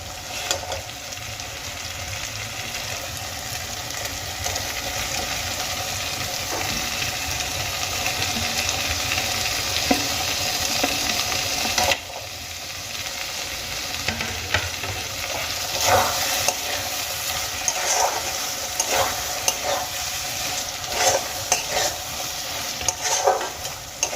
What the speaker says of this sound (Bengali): সেদ্ধ করে ডিমগুলো আমি খুব ভালো করে চিকেন আর মশলার সঙ্গে মিশিয়ে নিয়েছি